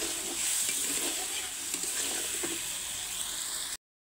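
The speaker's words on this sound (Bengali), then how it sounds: "এবার মাছগুলো আমি দিয়ে দেবো, ভাজা মাছগুলো। দেখেন, এটি তো নেড়ে নেবো মাছগুলো।" Fried fish pieces stirred into a spice masala in a pan give a steady close sizzle with scraping stir strokes, no talk, ending in a sudden cut to silence.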